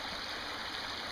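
Swollen creek water rushing steadily after a flood, a continuous broadband hiss and gurgle close by with no pauses, no other sounds over it.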